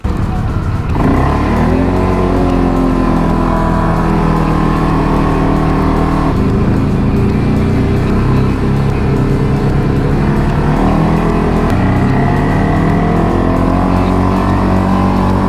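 Loud quad bike engine on a road, revving and shifting with rising and falling pitch sweeps, close and continuous for the whole stretch.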